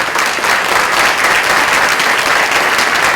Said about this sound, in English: I think we should give them all one more round of applause